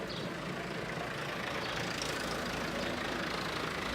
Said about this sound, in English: Daddy starts to reverse the tractor and agitator into the shed